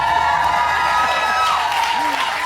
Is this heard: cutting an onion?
no